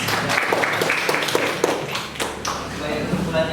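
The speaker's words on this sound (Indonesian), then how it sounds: "tepuk tangan untuk Yuli" Classroom applause for a student in an Indonesian language lesson, a handful of claps over room noise and shuffling, with a voice speaking over the latter part.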